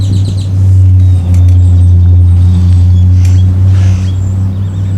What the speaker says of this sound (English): Man, that was a loud truck.